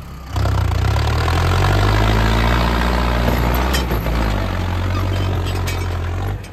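An Eicher 650 tractor engine runs loud and close in four-wheel drive, a heavy steady diesel drone with a low throbbing rumble that holds throughout.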